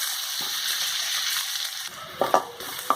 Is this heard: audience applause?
no